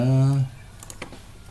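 A teacher types on a computer keyboard during an online quiz lesson, producing a few faint, scattered keystrokes just after a voice stops.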